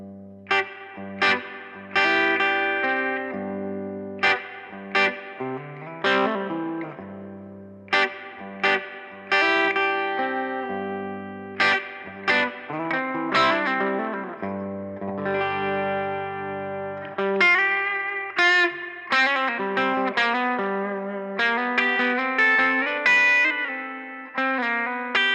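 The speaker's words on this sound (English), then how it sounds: "That's a really nice reverb." Electric guitar chords and single notes ring out through a budget valve amp, each hit trailing off in a springy, splashy spring-reverb tail; no voices.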